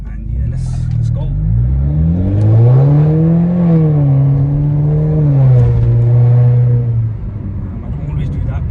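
Mercedes A200 car doing city driving, engine note rising and falling through a couple of gear changes as it accelerates, steady nearby hum with someone talking over it.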